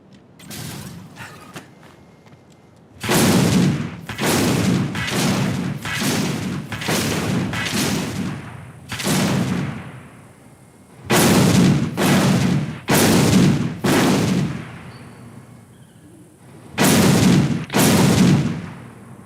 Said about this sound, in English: And I want to try the Gauss cannon.